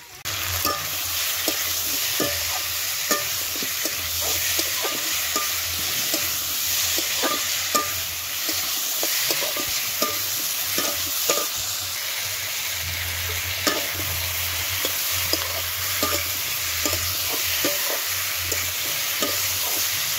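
Spice masala with cumin powder and potatoes fries in a pan while a spoon stirs and scrapes in regular strokes, each scrape clicking over a steady, close sizzle with no talking.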